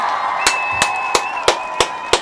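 Six sharp, evenly spaced claps or bangs ring out over a steady tonal hum and crowd murmur at an event held by a community group.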